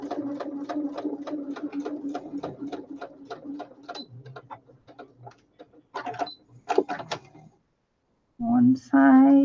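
Sewing machine stitching a paper bag for a junk journal, a rapid even run of needle ticks up close for about four seconds, then slower broken bursts and a pause before a final short whirring burst.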